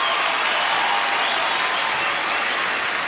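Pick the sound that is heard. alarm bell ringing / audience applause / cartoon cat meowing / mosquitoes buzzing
audience applause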